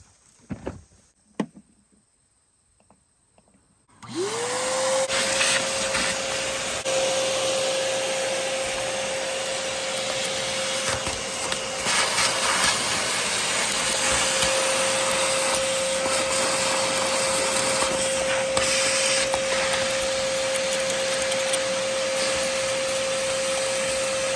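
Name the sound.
shop vac vacuum cleaner cleaning Model T engine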